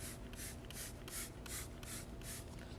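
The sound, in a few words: spraying stain extractor onto car interior surface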